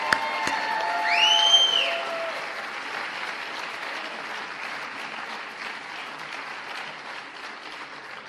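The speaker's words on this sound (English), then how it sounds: "Another round of applause for all 7 of our inductees this evening." Warm, sustained audience applause fills a hall at a college athletics Hall of Fame induction ceremony, swelling early then continuing evenly before slowly tapering, with a few faint whoops.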